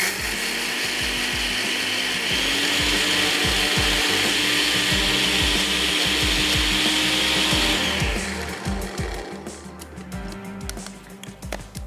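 Roasted white sesame seeds ground in an electric grinder, a loud, harsh whirring grind for about eight seconds that then stops, leaving rattling and clatter as it winds down.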